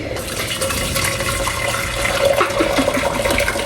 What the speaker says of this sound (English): Try to keep all the water in the pot.